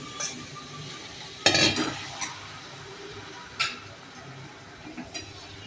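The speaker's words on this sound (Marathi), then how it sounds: "आपण आता ह्या त्याच्यामध्ये मिक्स करतो आहे खिचडी" Khichdi being stirred and mixed with cooked vegetables in a pot, giving a few scraping, clinking spoon strokes against metal with soft wet shuffling between them, moderately close and not loud.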